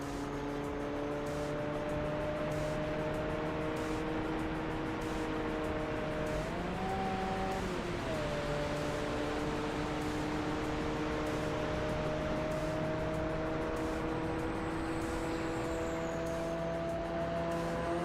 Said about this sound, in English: Great tire noises.